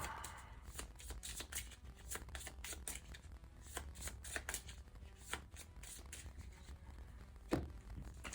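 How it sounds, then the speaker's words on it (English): Cards being riffled and bridged over and over, a close, crisp rapid patter of flicks and soft taps with occasional louder snaps. "shuffle them back in"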